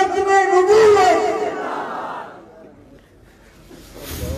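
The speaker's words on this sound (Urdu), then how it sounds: "ختم نبوت زندہ باد کے نعرے کے جواب میں آپ کے زندہ باد کے الفاظ" A crowd at a Khatm-e-Nabuwwat rally in Korangi, Karachi, roars a loud, drawn-out collective chant that trails off into a quieter murmur.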